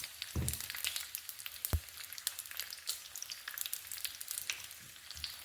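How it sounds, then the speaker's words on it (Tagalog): Dried salted fish (tuyo) crackles and sizzles in hot oil in a pan, a steady close frying hiss dotted with sharp pops and a couple of louder spits, with no one speaking. "nagluluto tayo ng tuyo"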